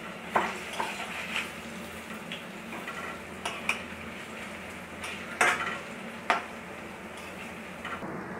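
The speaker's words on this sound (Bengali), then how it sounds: "বড়াগুলো ভেজে নিব, ছোট সাইজের করে ভেজে নিব।" Small banana flower fritters fry in oil over a low-to-medium gas flame, giving a steady close crackling sizzle broken by occasional sharp clinks and scrapes from a utensil against the pan.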